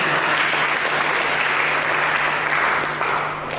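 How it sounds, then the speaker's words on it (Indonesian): A church congregation breaks into steady, loud applause during a sermon on a wedding oath, dense clapping filling the room evenly from start to finish with no voices on top. "Kita berikan tepuk tangan bagi Yesus."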